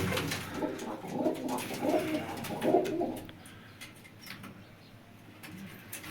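Pigeons coo in low, throaty, repeated rolls, louder for the first few seconds and then softer, over a steady background hum.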